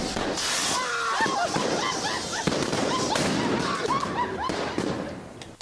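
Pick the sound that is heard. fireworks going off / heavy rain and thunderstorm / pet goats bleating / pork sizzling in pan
fireworks going off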